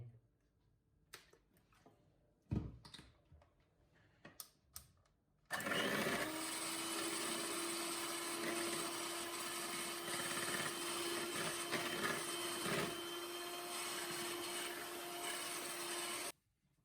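An electric hand mixer whirs loud and steady for about ten seconds, beating a batter of two egg yolks, milk and a little oil for Japanese pancakes, after a few quiet clicks and bumps.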